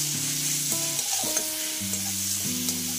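Beetroot frying in a pan for carrot halwa, a steady close sizzle with stirring scrapes, while a sustained background music track with shifting tones runs underneath throughout.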